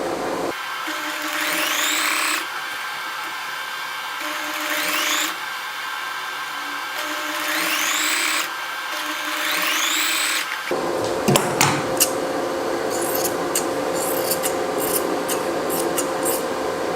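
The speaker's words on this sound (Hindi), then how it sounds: "और फिर आप डायरेक्ट ही एक तरफ से सिलाई शुरू करें।" A sewing machine stitches a shirt seam, its motor whirring in loud continuous runs with brief pauses, then shifting to a rougher rattling texture with sharp clicks near the end.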